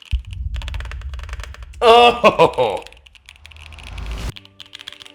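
Typing on a $600 gaming keyboard, a rapid clatter of keystrokes running steadily through the clip, close and fairly loud, with a brief exclamation and speech in the middle.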